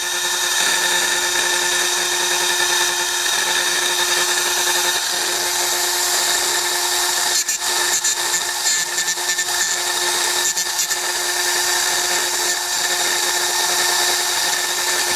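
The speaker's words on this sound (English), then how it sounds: "now we're going to turn it on and start grinding" A Granberg G1012XT 12-volt chainsaw chain sharpener grinds a chain, a steady, loud, unbroken whine of the motor and grinding wheel lasting the whole span, with faint brief scrapes partway through.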